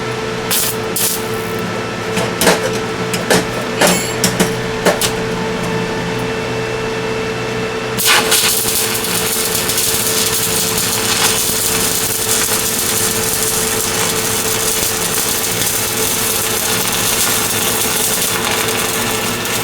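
Stick welding with a 200 amp 110/220 V SEFASPE welding machine: a steady, loud crackling hiss that runs continuously from about eight seconds on, after a stretch of scattered clicks and knocks.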